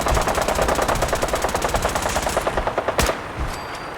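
Loud automatic gunfire from the video game Fallout 4 hammers in a fast, steady burst for about three seconds, followed by a sharp crack and a fading tail.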